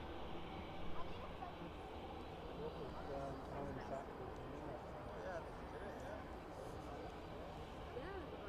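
A Jet2 airliner departs East Midlands Airport in the evening, giving a steady, distant, low broadband engine roar that holds evenly throughout with no sharp peaks.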